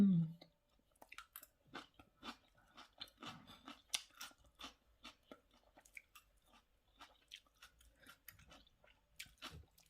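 Close, crunchy chewing and biting of homemade Isan fermented sausage, a steady run of moist crunches and mouth sounds across the whole stretch with no talking.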